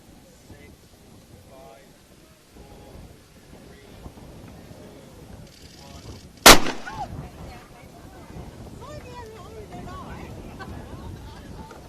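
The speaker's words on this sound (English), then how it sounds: "watch this gun actually go off here" A signal gun fires once aboard a ship, a single sharp loud blast that rings out over wind noise, with people talking before and after it.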